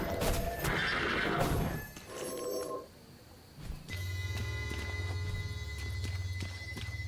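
A horse neighs and whinnies loudly near the start in the video game Withering Rooms, followed by a steady low electronic hum with ringing tones.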